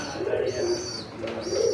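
Pigeons coo nearby in soft, throaty repeated rolls, two cooing phrases under a faint background hiss, with no talking.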